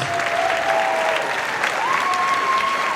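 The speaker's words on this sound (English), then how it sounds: "So one more time, a nice round of applause for our elementary band directors." Audience applause at an all-district school concert, honoring the elementary band directors, a steady wash of clapping across the whole stretch with a faint sustained tone running beneath it.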